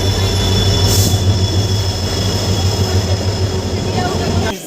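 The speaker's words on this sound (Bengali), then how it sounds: "এতক্ষণ ট্রেন যাচ্ছিলো, ওই জন্য আমি কিছু বলতে পারিনি।" A train passes close by at a station, loud and sustained, with low droning rumble, clattering wheels and a thin metallic squeal running throughout before it fades at the very end.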